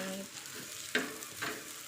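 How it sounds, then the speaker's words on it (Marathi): Egg bhurji made from small village eggs fries on a tava griddle with a soft, low sizzle, broken by a couple of brief spatula scrapes. "या तव्यावरती आधी फक्त ऑमलेट बनवलेलं, आता भुर्जी बनवून पाहतोय कशी टेस्ट लागते ते"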